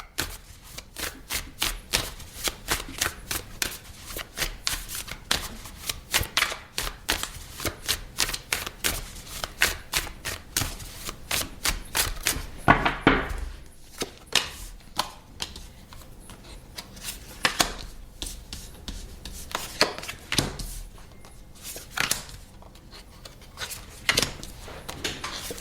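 Tarot cards riffled and shuffled close up, a long run of quick papery flicks and taps, then slower pulls and slaps of single cards as the deck is cut.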